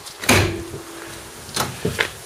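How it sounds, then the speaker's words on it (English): Rear barn doors on a 2014 Ram ProMaster 2500 high-roof cargo van swinging shut, one loud metallic thud followed by two lighter clunks and latching sounds, close by with no talk. "these doors fold their hinges almost flat with the side of the van"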